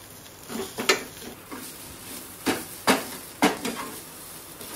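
Moringa flowers and egg being sautéed in a pan, giving a series of distinct spatula scrapes and stirring knocks over a soft sizzle, spaced irregularly, close and moderately loud with no talking.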